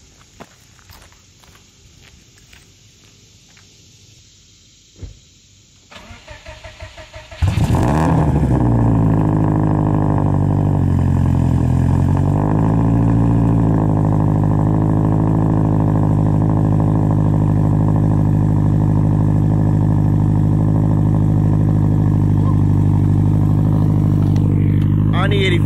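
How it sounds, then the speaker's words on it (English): A Subaru Legacy cold-started on an early morning: footsteps and a door beforehand, then the engine cranks and catches and settles into a loud, steady idle close by. "Give you guys a nice early morning cold start for one of the first times with the Legacy."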